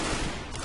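A dense burst of gunfire from a headshot in the video game CS:GO, loud and continuous across a short moment with no talk over it.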